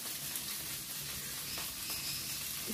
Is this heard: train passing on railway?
no